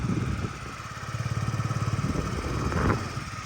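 A fuel-injected Yamaha Jog SA36 scooter engine idles steadily up close with a fast, even putter, its pitch briefly rising near the end.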